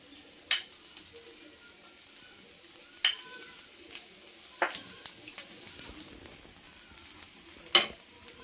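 Oil sizzling in a hot pan while making a jowar-flour tiffin, a soft steady fry hiss with several sharp scraping clinks of a spatula spaced a few seconds apart.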